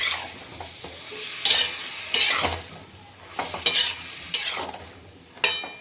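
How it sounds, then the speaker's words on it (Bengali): A spoon stirs sponge gourd curry with salt and turmeric in a frying pan, making repeated scraping strokes over a soft sizzle, up close with no talking. "এবার লবণ দিলাম, হলুদ দিলাম, তারপরে একটু নাড়াচাড়া করে"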